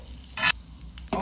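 Garlic and green onion hit a hot grill pan, giving short bursts of sizzling with quiet gaps between them and no voices.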